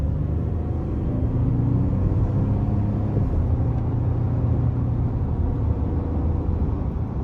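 Heard from inside the cabin, a 2023 Ford F-150 XLT with the 2.7 twin-turbo engine pulls hard with a steady, building low engine drone and road rumble, without talking.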